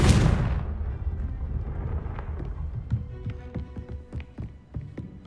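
A Confringo explosion spell cast in Hogwarts Legacy, opening with a loud, broad fiery burst that decays into a crackling rumble, followed by scattered sharp impacts and tapping debris sounds against ambient game noise.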